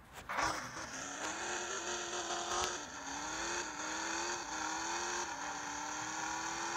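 A car engine in the Car Parking Multiplayer game revs with a bright, buzzy whine that climbs and dips between gear shifts, fairly loud and steady, with a brief tire-squeal-like burst near the start and no talking.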